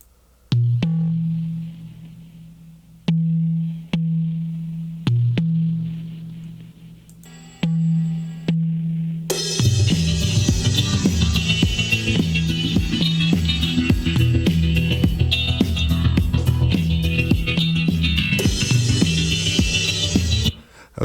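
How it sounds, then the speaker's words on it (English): A Drum Box Synth VSTi drum part plays soloed in a studio mix: sparse, punchy low hits at first, then a dense, loud full-band groove takes over. "VSTI called Drum Box Synth, which I just used."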